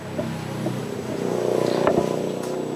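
A Honda Beat FI scooter's electric starter cranks after its battery has been recharged, a faint rising whir and churn for a couple of seconds with an indoor background.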